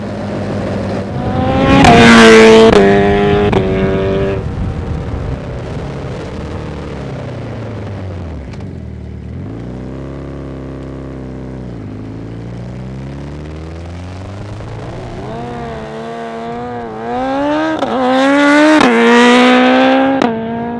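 A 370bhp TTS turbo SuperBusa, a tuned Suzuki Hayabusa motorcycle, screams through rising gears under hard acceleration with tyres squealing. It is loud up close, falls back to a lower drone, then roars again near the end.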